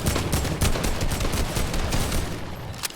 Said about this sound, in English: It's a gunfire going on up there.